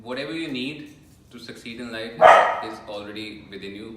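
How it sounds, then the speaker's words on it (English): A pet dog barks once sharply in the background, loud and brief, while a person keeps speaking over it. "That's my dog."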